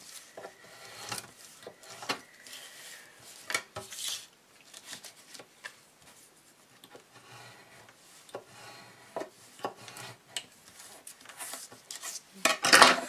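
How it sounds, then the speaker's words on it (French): Scissors cut the corners of a mini album cover, giving scattered crisp snips and rustles of paper and card at close range, irregular with short pauses between bursts. "Donc là, je coupe les angles."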